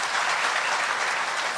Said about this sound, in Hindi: ताली बजाओ ऐसे आदमी के लिए।